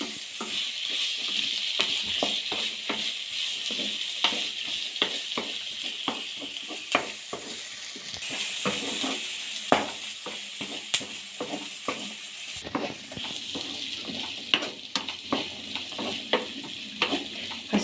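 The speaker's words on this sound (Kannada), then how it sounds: "ತರಕಾರಿ ಹಾಕಿ 1 ರಿಂದ 2 ನಿಮಿಷ ಆದಮೇಲೆ 3 ರಿಂದ 4 ಹಸಿಮೆಣಸಿನ್ಕಾಯಿ ಹಾಕೊಳ್ಳಿ." Vegetables and green chillies stir-frying in a pan for chicken fried rice: a steady loud sizzle with repeated sharp scrapes and clicks of a spatula stirring against the pan, close and continuous, with no talk.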